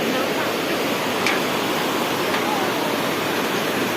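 A river in Bhutan rushes steadily, a dense, continuous roar of flowing water that holds close and loud throughout, with no voices over it.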